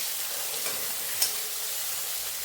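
Finely chopped small onion softening in hot oil in a pan, a steady bright sizzle with a couple of soft clicks from stirring, close and fairly quiet, no voices.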